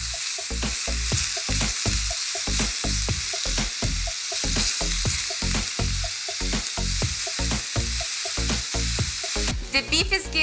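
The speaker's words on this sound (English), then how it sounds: "Now we're gonna use the same pan and add beef in here." Loud, continuous sizzling from beef frying in a pan, with regular scraping and stirring taps throughout, close by.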